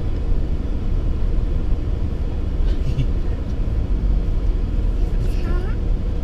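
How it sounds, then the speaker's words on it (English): Steady low engine rumble of a car driving through Knowsley Safari Park, heard from inside the vehicle with continuous road noise and people talking over it. "They're driving the car."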